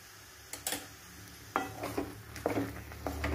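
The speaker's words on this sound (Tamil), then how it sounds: "நல்லா கலந்துக்கலாம்" Rava pulao being stirred in a pan with a spoonful of ghee added, giving a few short scraping stir strokes with a soft sizzle underneath, close and alone.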